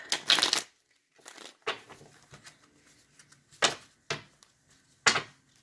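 A deck of tarot cards is shuffled up close in several separate riffling bursts, separated by quiet gaps and softer handling noises.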